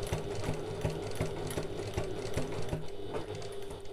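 Sewing machine back stitching on a large bag, a fast, even mechanical rattle of needle strokes running steadily and close up without talk.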